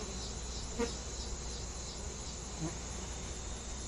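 Honey bees hum around hive frames holding capped honey and pollen, a continuous, faint, even drone with a couple of brief louder passes nearby.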